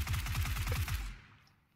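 Rapid automatic gunfire in a video game, a burst of about eight quick loud shots that stops after a second and fades into near silence, with a small click at the end.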